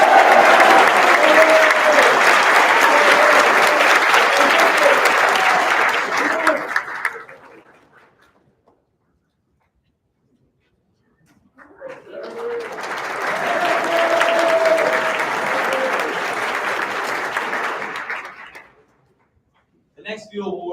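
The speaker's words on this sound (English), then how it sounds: "give a big round of applause for Mr. Jalen Pruitt." Audience applause at a school awards convocation, two bursts of loud clapping from a large crowd, each lasting several seconds, separated by a stretch of near silence, with a few more claps starting again at the very end.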